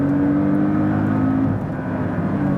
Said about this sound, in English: you can see the throttle blip when I'm shifting down or when the PDK is shifting down